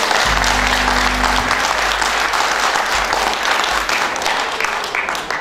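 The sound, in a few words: audience applause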